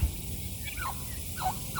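Turkeys gobble in a garden among tomato plants, a few short warbling gobbles at moderate distance over a soft outdoor background.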